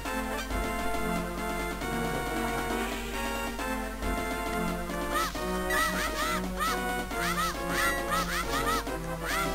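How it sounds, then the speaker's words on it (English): A chicken in the video game Zelda: A Link to the Past gives repeated sharp squawking clucks over looping game music, growing more frequent toward the end. "Ooh, chicken!"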